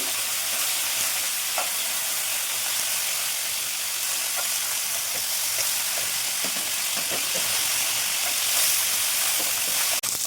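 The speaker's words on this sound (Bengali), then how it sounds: "এইভাবেই লাল লাল করে দু পিসটা ভেজে নিতে হবে" Pieces of bhola fish fry loudly in hot oil, a dense, continuous sizzle with small pops and crackles throughout as the fish is turned over, close and unbroken.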